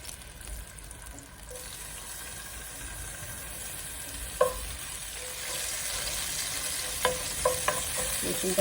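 Garlic frying in a pan for noodles, a close steady sizzle that grows stronger partway through, with several sharp clinks and scrapes of stirring.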